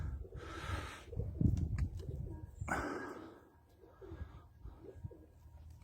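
Pigeons cooing softly outdoors on a sunny day, mixed with bursts of breathy, rustling noise and brief flutters as the birds tire and come in to land.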